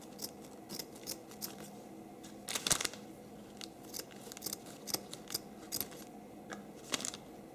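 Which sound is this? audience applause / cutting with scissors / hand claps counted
cutting with scissors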